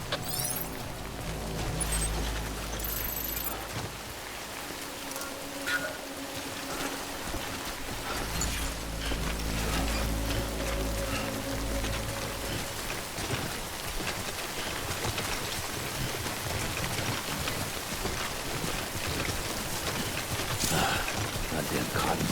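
Steady rain falls in the Death Stranding video game, a dense continuous patter that persists under game music and occasional sound effects, with no talk.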